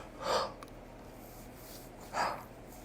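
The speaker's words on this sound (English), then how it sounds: "stupid yawns always interrupting at the worst times." A person yawns twice mid-ramble while talking about the day, with two soft breathy swells about two seconds apart over quiet room tone and no speech.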